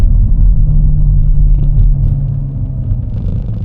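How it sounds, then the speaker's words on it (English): Supercharged V6 of an Audi RS4 Avant Competition rumbling loudly and steadily, a deep, close engine drone with a slight drop in intensity partway through and no voices. "V6 supercharged motor, feels incredible, sounds awesome"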